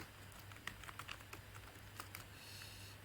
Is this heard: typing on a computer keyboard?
yes